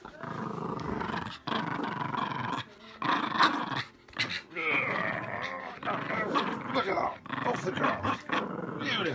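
A dog growls and snarls in repeated bursts, close and fairly loud, while a person talks to it throughout, trying to call it over.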